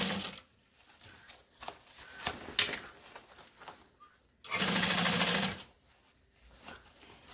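Sewing machine stitching a fabric bucket bag in short, stop-and-start runs, with one longer steady burst near the end and quiet handling pauses between.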